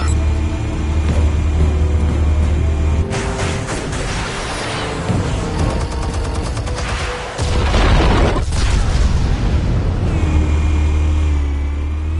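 Explosives detonate in a Batman Telltale video game, a loud booming burst with rumbling debris over a steady low game drone, with broadband blasts around the middle and a sharp crash near the end.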